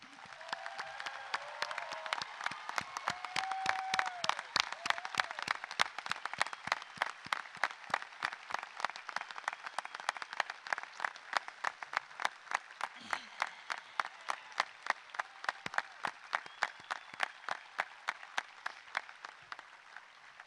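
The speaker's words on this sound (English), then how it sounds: "I think these men and women deserve a round of applause." A high school graduation audience claps for the graduates, a steady run of evenly spaced, crisp claps that continues for about twenty seconds, with brief talk near the start.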